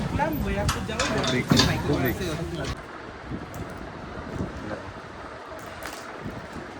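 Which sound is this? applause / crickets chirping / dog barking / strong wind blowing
strong wind blowing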